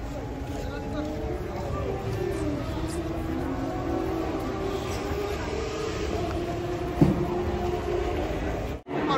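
A train rumbles past steadily at moderate distance near a spot where cattle are unloaded from a truck, a continuous grinding roar holding for about nine seconds, with a brief thump near the end.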